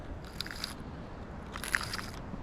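A cheap budget baitcaster reel crunches as tangled fishing line binds in a bird's nest behind the spool, giving two brief bursts of gritty crackling, faint and close, with no talking.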